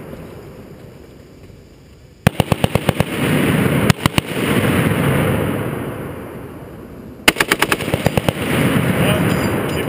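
An M2 .50 caliber machine gun fires three short, rapid bursts, the first and last longer and a brief one between, each a string of sharp, loud, close reports over steady outdoor wind-like noise.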